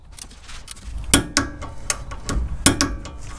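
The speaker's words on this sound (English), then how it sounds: "now I'm going to torque the upper ball joint castle nut to 80" Torque wrench turning the castle nut on an upper ball joint up to 80 foot-pounds: a run of quick ratcheting clicks in uneven bursts, close and fairly loud, with no talk.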